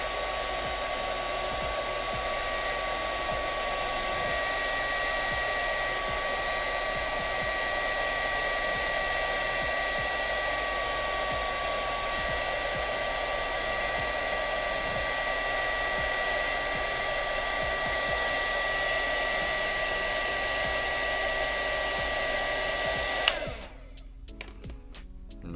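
A heat gun blows steadily while shrinking material on an AMT 1/72 Razor Crest model kit. Its constant, close whooshing roar holds for about 23 seconds, then cuts off abruptly, leaving near silence.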